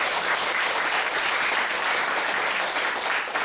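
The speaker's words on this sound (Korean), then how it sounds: "오늘 이 귀한 발표 토론해 주신 세 분께 뜨거운 박수." A forum audience gives loud, dense applause for three presenters after a peace discussion. The clapping is steady and continuous, with no speech on top.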